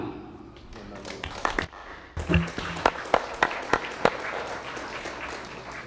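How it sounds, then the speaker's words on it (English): A few people clap in a legislative session gallery, sparse and uneven with distinct individual claps standing out near the microphone, with speech around them. "by giving her a round of applause"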